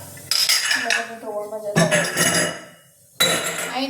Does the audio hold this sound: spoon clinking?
yes